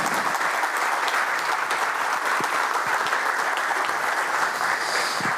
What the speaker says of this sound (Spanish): Aplausos para Lucas